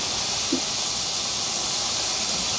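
KFC-style chicken popcorn frying in oil over medium heat gives a steady, close, crackling hiss that holds evenly throughout, with no voices.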